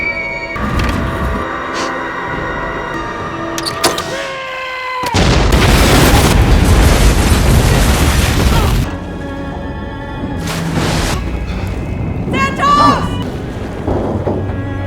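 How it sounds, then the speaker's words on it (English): A massive explosion destroys the fishing ship Arctic Warrior in a horror film, a sudden broad roaring blast sustained for several seconds amid tonal movie score and effects, with further rumbling and swells afterward. "triggering a massive explosion that completely destroys the Arctic Warrior"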